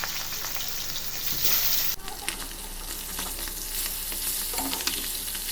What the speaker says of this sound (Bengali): আঁচটা মাঝারি রেখে এপিট ওপিট করে ৩-৪ মিনিট ভেজে আমি ইলিশগুলো উঠিয়ে নিলাম